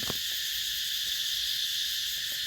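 Cicadas in a Thai forest keep up a loud, continuous high-pitched buzzing drone that fills the air steadily, with a few faint low knocks beneath it and no voices.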